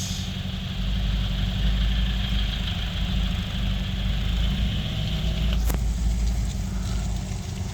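A car engine idles steadily during a test drive, a low, even, fairly quiet rumble with a smooth constant hum and a brief faint click partway through.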